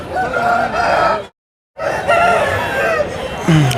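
A native rooster crows loudly nearby at the Timiram country chicken market, Anakapalli district, the call breaking off briefly for a moment of silence before crowing resumes, with some clucking toward the end.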